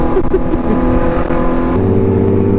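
A loud, throaty motorcycle engine rumbles and revs continuously, its pitch shifting and dropping into a deeper steady drone near the end.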